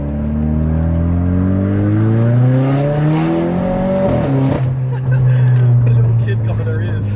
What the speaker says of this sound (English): if you put your foot down in this car, everyone looks